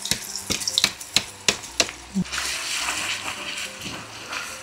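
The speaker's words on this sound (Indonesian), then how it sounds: "Pakai minyak bekas goreng ikan. Masukin bumbu yang sudah kita haluskan" Ground spice paste sizzling as it goes into hot, reused fish-frying oil, a burst of sharp spattering crackles followed by a steady close frying hiss.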